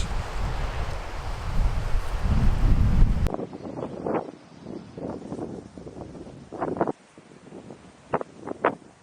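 Heavy wind on a hilltop overlooking a beach roars and buffets the microphone for a few seconds, then drops to lighter gusts with scattered rustling and brief knocks.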